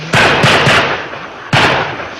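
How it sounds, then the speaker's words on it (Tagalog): Several sharp gunshots in an exchange of fire with a suspect, a quick burst of three followed by another after a short pause, loud and echoing. "rinig na rinig ang alingaw-ngaw ng putok ng mga baril"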